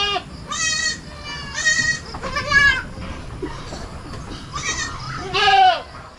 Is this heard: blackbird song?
no